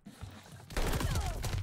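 A burst of rapid gunfire from the Xbox video game Call of Duty Vanguard starts after a short quiet lead-in, loud and close, with several overlapping shots and echoing reports.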